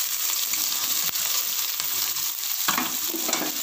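Chopped onions sauté in hot oil for plain noodles, a continuous loud sizzle broken by a few brisk spatula scrapes and knocks against the pan.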